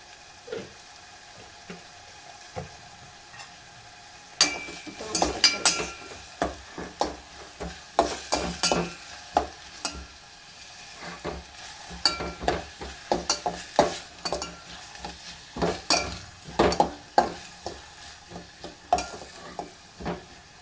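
Curry leaves sizzle and crackle in hot oil for a buttermilk curry tempering, starting quietly, then bursting into irregular loud spits and pops alongside scraping stirs, close up.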